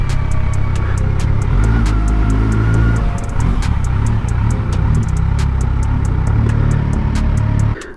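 A superbike with a modified exhaust idles nearby in a steady low burble, with sharp ticking clicks over the engine's even rumble and a sudden drop at the end.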